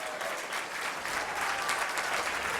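A crowd at the 2016 USBC Men's Intercollegiate Singles Championship bowling final claps steadily, a moderately distant wash of applause sustained throughout with no talk over it.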